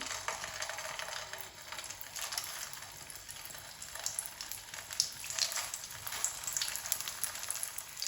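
Aloo and rice tikki frying in oil in a pan over medium heat, a soft steady crackling sizzle with scattered pops, faint and continuous throughout.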